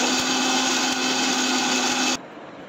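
A blender grinds about twenty-five almonds into a coarse paste, a loud, steady motor whir that runs for about two seconds and then cuts off abruptly, leaving a faint residual hum.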